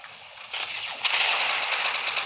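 Fortnite gunfire, rapid bursts of shots that grow louder in steps, rattling continuously at a moderate distance with no voices over it.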